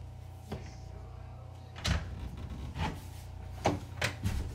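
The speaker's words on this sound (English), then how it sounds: "this is kind of dumb for me trying to open this door" Someone struggling to open a door: several dull knocking and rattling thumps spaced about a second apart, close and moderately loud over a steady low hum, no talking.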